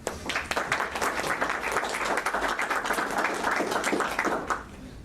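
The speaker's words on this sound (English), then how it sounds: "So please let's give them a warm round of applause." An audience claps warmly for two speakers at an end-of-life discussion, a dense burst of applause that holds steady and then drops away near the end.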